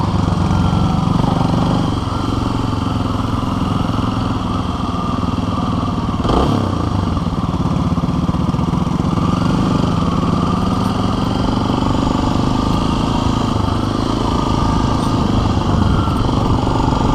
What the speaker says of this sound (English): I'm talking about the motorcycle weave.